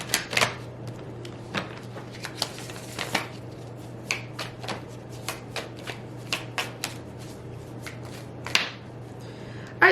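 Tarot cards being shuffled for a reading, giving a series of quick soft riffles and slaps at irregular intervals over a low steady hum, close and fairly quiet.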